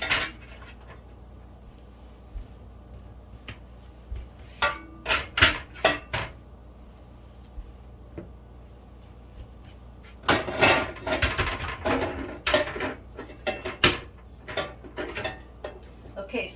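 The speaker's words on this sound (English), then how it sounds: "So it's empty, has the rack, the jars go in." Glass quart jars set one by one into an empty canner rack, with clinks and knocks in scattered bursts, clustered near and fairly loud with quiet stretches between.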